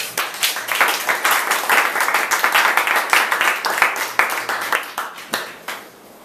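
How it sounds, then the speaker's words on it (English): Applause at a graduation ceremony: a sustained round of many hands clapping, fairly close and loud, with scattered individual claps and a few voices in the crowd, tapering off at the end. "Let's give them a round of applause."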